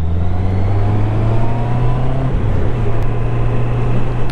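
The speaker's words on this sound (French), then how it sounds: "un 4 cylindres qui se repose pas entièrement sur son couple en bas du régime" A QJ Motor SRK 800RR four-cylinder sport-touring motorcycle engine pulling at low revs, around 2,000 to 3,000 rpm, with a steady close drone that lasts throughout, slightly rising then holding, and no talking.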